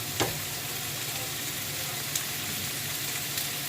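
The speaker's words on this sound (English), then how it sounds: "you would add it at this stage while you're sauteing your veggies" Vegetables sautéing in a small amount of oil in a pan for chicken fried rice, giving a steady, even sizzle throughout with a couple of faint clinks from stirring.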